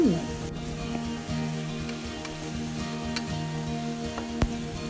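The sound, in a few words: filling being stir-fried in a pan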